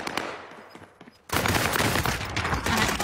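Video game gunfire, a dense sustained burst of rapid automatic shots erupting loudly after a quieter stretch of scattered game sounds.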